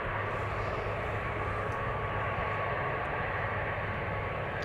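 A double-chinned Malta Cargo Airbus A330 freighter at Amsterdam Schiphol, heard as a steady, even jet engine roar with a faint tonal hum, constant throughout with no talk.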